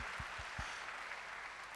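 An audience in a classroom or seminar claps together, a steady broadband patter of hands that holds for the whole stretch with a few low thumps at the start.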